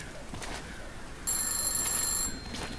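A phone box rings in a spooky village video game, a steady electronic trilling burst of about one second over a dense, noisy ambient bed, with no talking.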